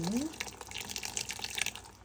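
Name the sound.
pouring curdled milk slowly into coffee filters for goat cheese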